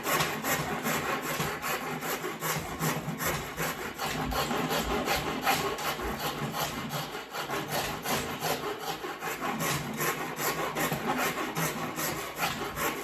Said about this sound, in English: I'm just going to rasp away in this section after a second